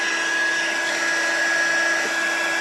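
A heat tool blowing hot air onto the back of a watercolor birthday card: a steady, even electric whir with a constant high whine, close and unbroken throughout.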